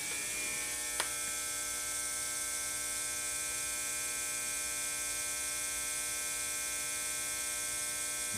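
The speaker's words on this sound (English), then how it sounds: "Putting gas back into the chamber, so we're devacuing the chamber by introducing the nitrogen into the bag." A Sammic 500S chamber vacuum sealer lets nitrogen flow back into its chamber, a steady even hiss and hum with a small click near the start, holding at constant level throughout.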